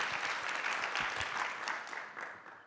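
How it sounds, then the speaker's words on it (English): Applause from a conference audience for a panel at a TVET college policy conference, a steady dense wash of clapping that holds fairly even and slowly tapers toward the end, moderately distant. "let's give them a round of applause"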